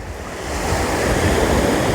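Ocean waves break and wash onto a beach in Japan in a loud, continuous rush of surf, swelling slightly, with wind buffeting the microphone.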